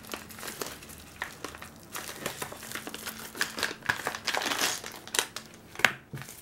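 Irregular crinkling and crushing of a thin plastic packet of Lego minifigure parts, close and fairly quiet, with scattered sharp crackles and rustles throughout.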